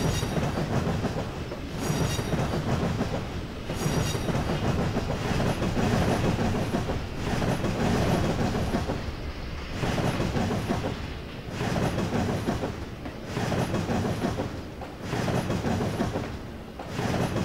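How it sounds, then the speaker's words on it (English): Train on the Carrabassett Valley Railroad passing close by, with a continuous rumble and rhythmic clickety-clack of wheels over rail joints, plus some squealing, steady and fairly loud throughout. "there goes the train"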